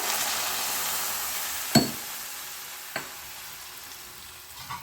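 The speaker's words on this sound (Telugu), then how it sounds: "ఇప్పుడు ఈ తాలింపును తీసి దీంట్లో వేసుకోండి జాగ్రత్తగా" Steady hot sizzling hiss of a hot spice tempering poured into a jaggery rice dish, with two sharp metallic clinks partway through.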